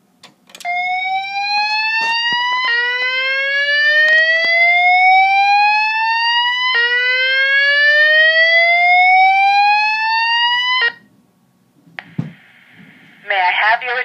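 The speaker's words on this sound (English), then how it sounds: "The signal you have just heard indicates a report of a fire in this building." Voice evacuation fire alarm signal from a building's voice EVAC system, a loud repeating rising electronic whoop sweeping upward in long steady cycles for about ten seconds, then cutting out before a short chime-like tone.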